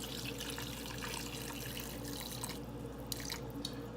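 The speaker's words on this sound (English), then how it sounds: "I'm going to add water to this particular bowl" Water running steadily into a bowl holding dry Korean-style ramen noodles, a continuous close pour with a faint low hum underneath and a few splashy spikes near the end.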